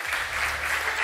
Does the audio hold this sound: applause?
yes